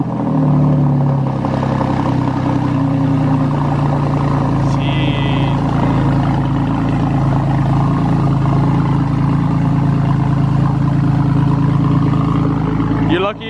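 A BMW G80 M3 with a newly fitted exhaust fires up from cold, a loud, steady, deep engine drone running close and continuous for the whole stretch, holding a high idle with a brief blip near the end.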